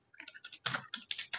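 Quick, light keystrokes on a computer keyboard entering a data question, a close burst of rapid irregular clicks lasting little more than a second, with no talking.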